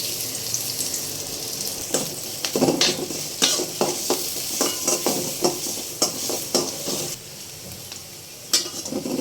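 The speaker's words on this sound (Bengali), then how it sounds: "আমার পেঁয়াজটা অনেকটা ভাজা হয়ে গেছে" Sliced onion fries in oil in a hot wok, a loud hiss broken by repeated sharp scrapes and knocks of a stirring spoon, close up, quieting near the end before one last clatter.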